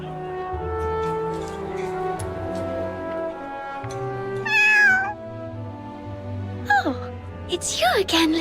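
A cat meows several times in the video game Duet Night Abyss, short rising cries heard over soft game music in the second half.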